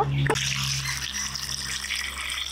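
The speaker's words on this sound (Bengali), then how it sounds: "আলু পেঁয়াজগুলো ধুয়ে নিয়েছি, আবারও ধুয়ে নেব।" Potatoes and onions washed in water, with a splash at the start, then steady running and sloshing water close by and no speech.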